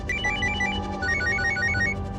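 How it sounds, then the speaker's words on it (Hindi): A telephone rings with rapid trilling bursts, two ring cycles in quick succession, close and clear with no voices. "लो, डॉक्टर का ही फोन आ गया।"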